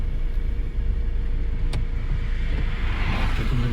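A car moving in second gear during a driving lesson, a steady low engine and road rumble inside the cabin, with a short click near the middle and the engine note rising slightly toward the end.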